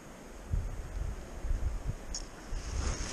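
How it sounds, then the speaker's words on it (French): Wind gusting across an open-air fishing spot, a steady rushing roar with low buffeting thumps against the microphone, with no voices. "Il y a le vent qui m'emmerde, mais je vais m'en servir."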